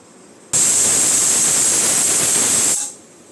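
A pressure cooker of chicken biryani on a low flame lets out a loud, steady jet of hissing steam that starts abruptly, holds for about two seconds, then tapers off.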